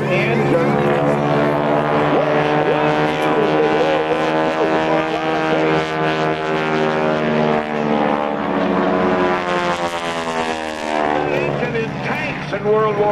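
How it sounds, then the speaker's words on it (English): A Stearman biplane with a 450 hp Pratt & Whitney radial engine drones steadily and loudly at an airshow, a continuous throbbing harmonic roar with someone talking over it. "We have a 450 horsepower Pratt & Whitney engine."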